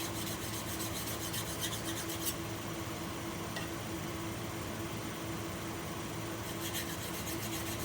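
Diamond card rubbed along a woodturning gouge bevel as a steady, faint scratchy rasp, continuous strokes with a quieter steady hum under them, with no talk.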